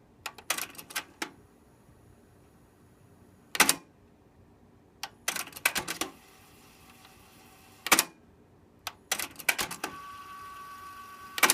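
A Technics cassette deck mechanism clicking while playing forward, sharp close mechanical clicks and clattering bursts recurring in clusters between quiet pauses, with a faint steady tone near the end.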